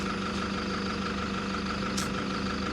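A diesel engine idles at a roadside stop near the Peddamberpet reserve forest, giving a steady, even low rumble with a continuous hum throughout and no voices.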